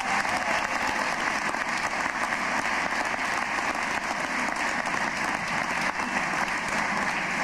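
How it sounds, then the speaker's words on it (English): Dense, sustained applause from a concert crowd greeting a sound engineer on stage at a live music show, a loud continuous wash of clapping with no break. "Please give him a big round of applause."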